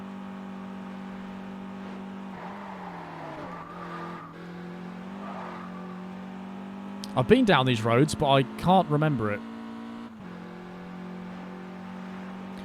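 A car engine hums steadily in Test Drive Unlimited, then surges loudly with revving and screeching tire squeals for a couple of seconds before settling back to a drone. Someone talks over the driving.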